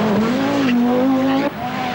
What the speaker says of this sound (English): Stig Blomqvist soldiers on in the Audi for his third second place of the year.